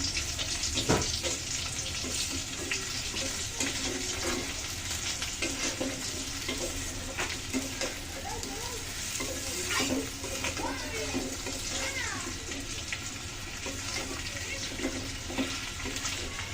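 Tengra fish fry with chili powder in a pan, giving a steady, close sizzle with scraping stirs and the odd splash of water running through it.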